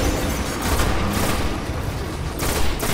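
Rapid gunfire in the video game Destiny hits Fallen Shanks in a dense, loud burst of overlapping shots with booming impacts lasting a few seconds.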